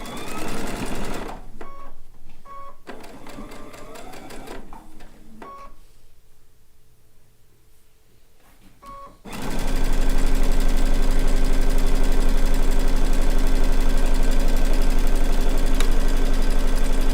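A sewing machine stitches a blue-and-white quilt top, running in short bursts with pauses early on, then a long steady loud run from about nine seconds onward, with no talk.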